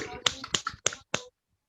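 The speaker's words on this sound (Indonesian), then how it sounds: "Tepuk tangan dulu dong buat kita semua." A few podcast hosts and guests discussing football supporter culture give about five sharp, separate claps in quick succession, close and dry, then fall silent.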